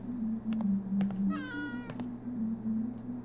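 A cat named Valkyrie in Life is Strange: True Colors lets out a single clear, rising-then-falling meow partway through, close and distinct over a steady low hum of background music.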